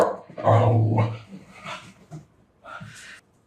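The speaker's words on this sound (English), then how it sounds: "sorry, my dog is barking." A pet dog barks indoors in a home, a loud close run of barks and growly yips at the start, then softer whimpering barks that trail off.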